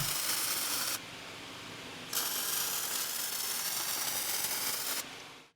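MIG welding along a joint on a steel welding table, a harsh, continuous crackling buzz in long close bursts with short breaks between passes.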